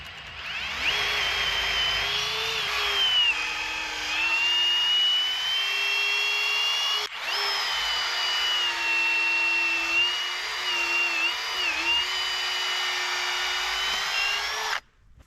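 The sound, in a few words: power drill drilling through brace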